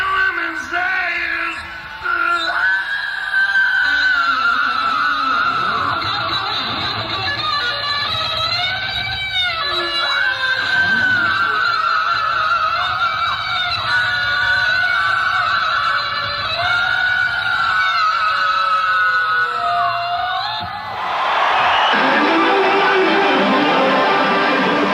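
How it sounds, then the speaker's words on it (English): A crowd screams and hollers loudly and continuously at a rock concert, with high wailing cheers rising and falling throughout and a noisy surge near the end. "And they're rooting and they're hollering and they're screaming."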